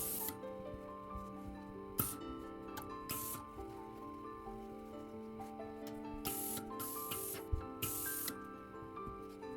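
A steam iron pressing corset fabric seams, with sharp steam hisses and spray bursts repeating several times over a steady mechanical hum, heard close with no talk.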